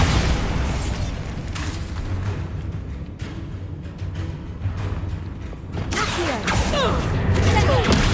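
Bombarda blasting spells burst in a Hogwarts Legacy fight, heavy booms and crashing debris rolling across several seconds with whooshes and a swell of action near the end.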